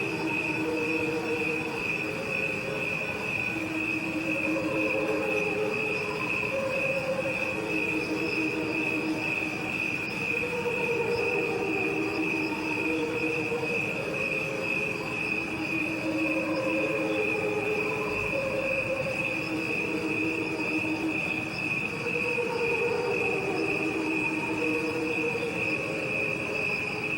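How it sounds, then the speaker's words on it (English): Crickets chirp in a steady, continuous drone, layered with a second slowed-down track of the same chirping that pulses in lower, rhythmic bursts beneath it. No voices. "What you are hearing is a recording of crickets."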